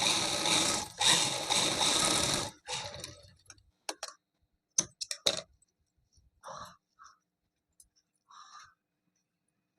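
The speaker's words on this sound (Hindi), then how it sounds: "हमें अपने रबड़ पे सिलाई लगा देनी है।" A sewing machine stitches elastic onto palazzo pants: a long continuous run of mechanical whirring, then a series of short, separated stitching bursts and clicks, close and fairly quiet, with no talking.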